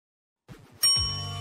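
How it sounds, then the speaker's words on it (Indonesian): A few soft low notes, then a bright ringing chime that holds and slowly decays, used as a phone ringing sound effect. "Oh, teleponmu berdering."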